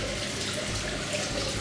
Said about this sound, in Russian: Вода стекает по ступенькам.